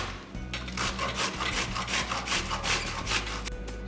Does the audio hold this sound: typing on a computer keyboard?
no